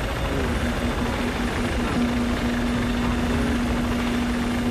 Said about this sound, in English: I have a helicopter and I'm awesome.